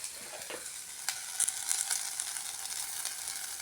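Mustard seeds and greens sizzle and fry in a pan with turmeric and salt, a steady close hiss broken by a few soft scraping stirs, with no one talking.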